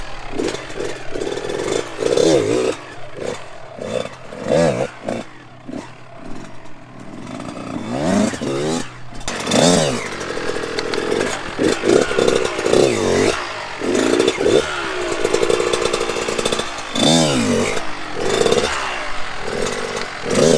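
A Kawasaki KX112 dirt bike engine revs hard in repeated sharp bursts, its high buzzing rising and falling as the throttle is blipped to lift the front wheel.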